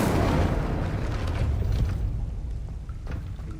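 Incendio fire spell cast in Hogwarts Legacy, a loud whooshing burst of flame that roars at full strength and then slowly trails off, with no voices.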